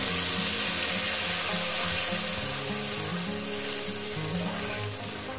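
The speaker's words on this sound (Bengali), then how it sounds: "দিয়ে দেবো একটু জিরে ফোড়ন, কয়েক সেকেন্ড একটু ভেজে নেব" Cumin seeds crackle and fry in hot oil, a few seconds of tempering for a Bengali fish curry with potatoes and lentil dumplings (bori); a dense, steady sizzle close up, with no voices.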